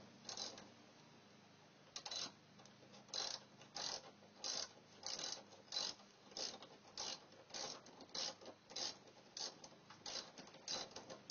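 A screw being unscrewed from the tail light of a 2009 Dodge Grand Caravan, heard as a steady series of fairly faint, evenly spaced ratcheting clicks with no voices.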